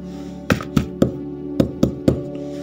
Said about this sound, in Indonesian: Pria itu mengetuk pintu.